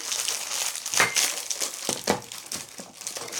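Oreo cookie wrapper being opened, with crisp plastic crinkling and crackling in several close bursts over a few seconds, no talk.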